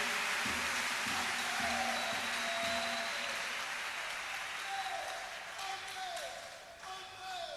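A church congregation claps for Jesus, sustained rhythmic handclapping that fills the room, with singing or voices running underneath and the clapping thinning slightly toward the end.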